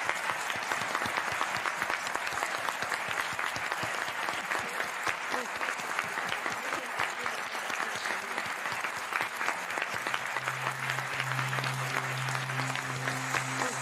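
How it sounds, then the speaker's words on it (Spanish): Steady, dense applause fills an award ceremony honoring distinguished female students, continuing evenly before a low sustained tone enters near the end beneath the clapping. "Un aplauso para todas ellas."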